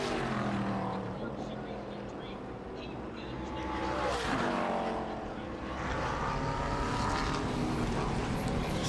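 ARCA Menards Series race cars roar past at Lime Rock Park, engines loud and sweeping with rising and falling passes, while a commentator talks over the racing noise throughout.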